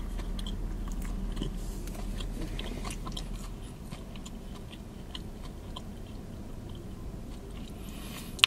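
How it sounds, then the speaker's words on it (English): Someone chews a crunchy McDonald's blueberry muffin up close, with repeated crisp bites and crackling crunches in an irregular rhythm that soften into quieter chewing toward the end. "It got a crazy crunch to it. Literally, it sounds like I'm chewing on some candy."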